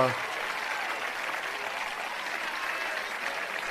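A crowd claps continuously for a fourth-place school team at a closing ceremony in Grammatiko, Greece; the dense, even applause fills the whole stretch at moderate loudness.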